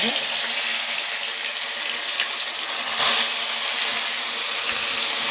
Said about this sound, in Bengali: দেখো তেলটা তেতে গেছে এবার মাছটা আমি দিয়ে দিচ্ছি কড়াই